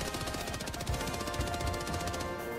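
A sentry turret in Helldivers 2 fires a fast, steady stream of bullets, dense rhythmic gunfire heard close and loud for several seconds over a background game hum.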